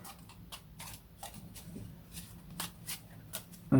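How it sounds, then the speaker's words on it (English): Playing cards for a dungeon board game being shuffled together at close range, a series of crisp riffling bursts and soft card flicks, with a louder thump at the end. "I shuffle these together."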